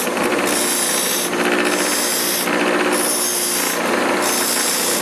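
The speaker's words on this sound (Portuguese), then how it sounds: "Então vamos sempre afiar nessa posição, que é para as linhas, as ranhuras aí do esmeril ficar no sentido da corrente." Loud, steady abrasive grinding of a chainsaw chain being sharpened against the grooved stone of a bench grinder, continuous rasping with slight rhythmic surges as the tool is repositioned.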